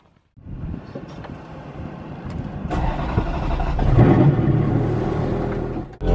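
A Ferrari 430 Scuderia pulls away, its engine rising from a low idle rumble into a loud, building rev and acceleration at close range.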